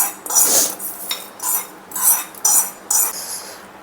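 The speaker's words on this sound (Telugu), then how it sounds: "ఇందులోకే నేను ఆల్రెడీ పోపు రెడీ చేసుకున్నానండి పోపు వేసేసు పోపు వేసేస్తున్నాం" Sizzling spatters and metallic clinks as tempering is tipped into chutney in a pan, in several short bursts over a few seconds.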